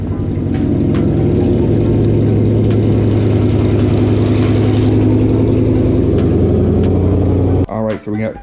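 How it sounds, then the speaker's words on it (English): A car engine runs steadily at idle after a cold start, a loud continuous low rumble with a rev swell midway, cutting out abruptly near the end with a few choppy bursts. "hit it with this cold start"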